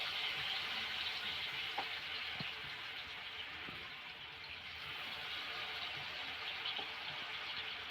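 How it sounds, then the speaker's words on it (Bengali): Pumpkin leaf fritters coated in gram flour batter fry in hot oil, giving a steady, close sizzle that stays even throughout with no talk over it. "তো আমি একটু বেসন দিয়ে ভাজে খামু।"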